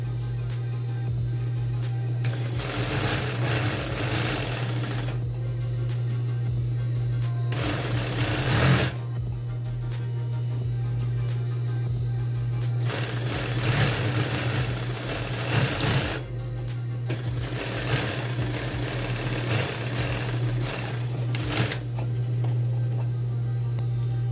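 A sewing machine runs in close, rapid bursts as it stitches the side seam of men's trousers, pausing between runs while a steady motor hum carries underneath throughout.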